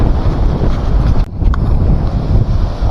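Strong wind blows steadily through a mango orchard, a loud, continuous roar buffeting the microphone, with a brief dip partway through.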